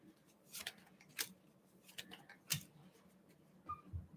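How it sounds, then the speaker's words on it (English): Cards pulled from a deck and handled close by, with several quick, crisp papery swishes and snaps at irregular intervals over a quiet background and no speech. "I'll pull some karma cards and some dharma cards on that."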